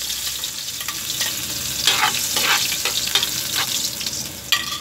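Garlic frying in hot oil in a wok while pork menudo is cooked, a steady close sizzle with bursts of stirring and scraping, no voices.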